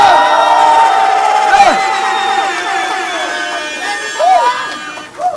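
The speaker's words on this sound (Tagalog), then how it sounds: "Aking pong hinihinga yung malakas na palakpakan at sigawan ng buhay dako!" Crowd at a rap song competition festival cheering, whooping and shouting, a loud continuous mass of voices with rising yells throughout.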